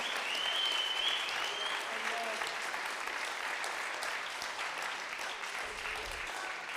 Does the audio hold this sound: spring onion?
no